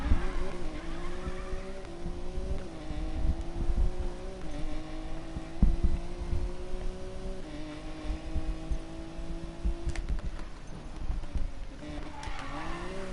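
Racing-game car engine revving and pulling hard off the line, a steady loud drone climbing in pitch through repeated gear pulls, with brief tire-squeal bursts and no talking.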